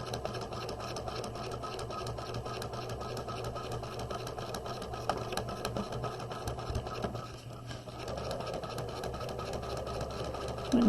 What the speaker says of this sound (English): We're going to back stitch, and then we're going to stitch around